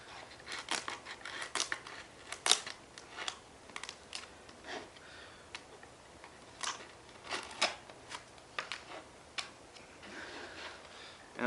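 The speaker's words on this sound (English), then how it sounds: "cut the edges off" Edges being cut off a handmade skateboard set piece, giving a steady run of crisp snipping and scraping cuts, close and fairly quiet, with no talking.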